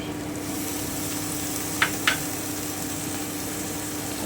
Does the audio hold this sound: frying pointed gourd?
yes